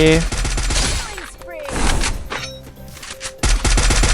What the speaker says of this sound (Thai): ยิงโคตรแรง AK